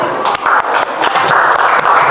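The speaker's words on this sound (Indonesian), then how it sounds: "tepuk tangan untuk kelompok 4" Classroom applause for a student group during a teaching performance assessment, with a dense patter of hand claps lasting a couple of seconds and voices mixed in.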